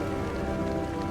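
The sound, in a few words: hail hammering the deck of a sailboat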